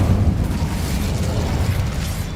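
A fire spell cast in the Hogwarts Legacy video game erupts as a dense, sustained roaring burst, rumbling steadily throughout at fairly constant loudness with no talking.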